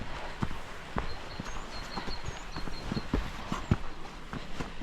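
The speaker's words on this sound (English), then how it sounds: "when you're walking on it in this freezing cold, sounds like horse clopping on" Footsteps ring out on a cobbled path in Yorkshire on a freezing day, making hard, hollow clops like a horse walking, in a steady irregular rhythm against light outdoor background noise.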